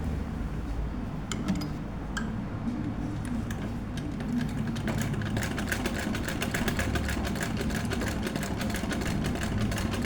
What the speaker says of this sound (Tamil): இதெல்லாம் இதே மாதிரி மெஷின் நிப்பாட்டாமல் தைக்கிறதுக்கு பழகணும்.